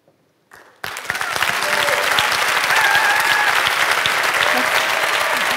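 Audience applause breaks out after a young girl's speech at the final of a children's eloquence contest, starting abruptly after a brief quiet and holding as a steady, dense wash of clapping from a large crowd.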